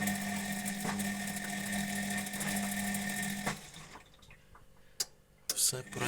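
A washing machine motor with newly replaced brushes, repaired after the drum stopped spinning, hums and whirs steadily for a few seconds, then winds down, leaving scattered clicks and light knocks.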